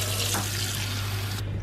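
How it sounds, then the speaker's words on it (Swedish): A tap runs steadily into a sink for washing with dish soap and warm water, a close, constant splashing rush that shifts slightly as the flow is interrupted near the end. "Diskmedel och varmt vatten."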